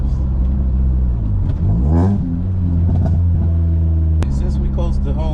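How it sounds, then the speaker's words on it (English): A Honda Prelude engine revs up and drops through a manual downshift, the engine note climbing and falling with a rumbling mechanical tone and a click, heard from inside the car. "I need to get better with my downshifts."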